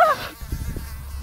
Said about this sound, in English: oh, there's a mosquito.